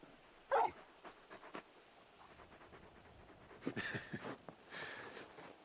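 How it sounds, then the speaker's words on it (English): Torgal, a large dog in a video game, gives a short whimper followed by soft panting and faint snuffling, quiet and close, with a few brief louder bursts later. "You're just a big puppy, aren't you? A very big puppy."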